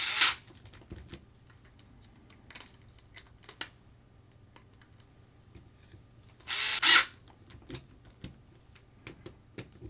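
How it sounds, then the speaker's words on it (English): A power screwdriver driving the bottom screws back into a Tamiya TT-01E RC car chassis, two short whirring bursts, one at the very start and a longer one later, with soft tapping and handling clicks between. "and then we'll just get his bottom screws back in."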